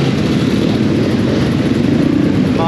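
Several enduro motorcycle engines and exhausts rev loudly and continuously at a Welsh extreme enduro race, a dense, steady roar with no gaps for the whole stretch.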